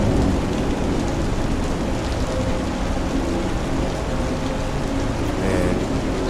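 Steady, dense rain falls in the rainy city of Lorville in the Star Citizen video game, a constant wash of rainfall with a faint low rumble beneath, heard alone without voices.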